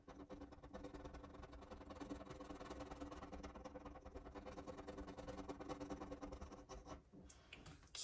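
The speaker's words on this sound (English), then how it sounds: "But let's go ahead and pick one of these and scratch it." A scratch-off savings challenge card being scratched by hand, a faint continuous rasping close by under a low steady hum, ending with a few louder scrapes.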